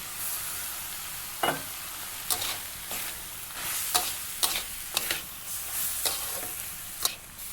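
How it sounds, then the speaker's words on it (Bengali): Sweet corn stirred slowly in a pan, faint sizzling under a string of light scraping and tapping strokes spaced a second or so apart, quiet and close, with no talk. "এটা আস্তে আস্তে একটু সময় নিয়ে নেড়ে নেব"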